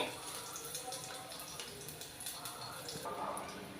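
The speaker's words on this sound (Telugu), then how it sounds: "అదే ఆయిల్లో తెల్లుల్లి ఒక ఆరేడు రెప్పలు వేసుకోవాలి ఇవి కొంచెం వేగాలి" Six or seven garlic cloves frying in hot oil for a Telugu eggplant chutney, a dense continuous crackling sizzle close by with bright, busy spitting throughout.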